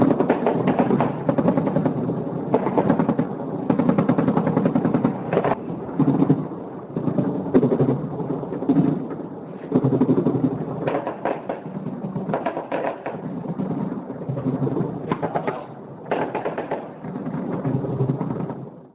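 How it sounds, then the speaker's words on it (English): Distant, rumbling booms of anti-aircraft gunfire roll on continuously over Tripoli, Libya, deep and heavy, with repeated muffled blasts rising and falling over about twenty seconds. "Just heard another couple of blasts of sound there. It sounded like similar anti-aircraft gunfire."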